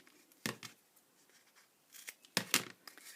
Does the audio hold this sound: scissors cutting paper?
yes